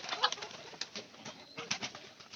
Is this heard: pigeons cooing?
yes